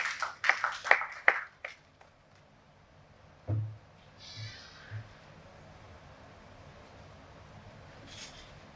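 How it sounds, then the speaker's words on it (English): An audience at a JCI Nigeria awards event gives a short burst of scattered clapping that quickly fades, followed by quiet room noise and a few faint thumps. "Please, let's give a round of applause."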